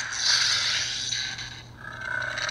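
A Disney Parks Kylo Ren toy lightsaber ignites with a buzzy, crackling electronic surge that swells, dips slightly and then settles into a raspier hum, fairly close and moderately loud, with no talking.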